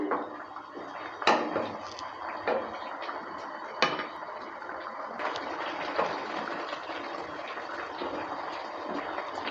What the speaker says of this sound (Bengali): দুই মিনিটের মতো সময় নিয়ে ভালো করে ফুটিয়ে নেব হাই স্পিডে